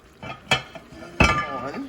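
Someone sets a lid on a cooking pot for a one-pot meal, giving two quick metallic clinks and rattles close by, with faint kitchen sounds between them.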